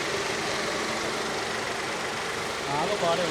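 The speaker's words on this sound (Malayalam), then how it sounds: "ഇത് ഞാനിപ്പം വണ്ടി സ്റ്റാർട്ട് ചെയ്തേക്കാണ് കേട്ടോ വണ്ടിയുടെ സൗണ്ട് കേൾക്കാലോ" Maruti Swift with a three-cylinder petrol engine idling just after starting, a steady close-up hum that holds throughout.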